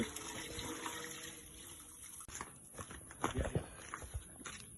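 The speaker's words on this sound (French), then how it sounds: "une fois que le tissu est bien passé dans l'eau bouillante, on va encore le relaver" Fabric being rewashed in water after boiling: soft sloshing and splashing with a few louder splashes near the end, close by over a steady background hiss.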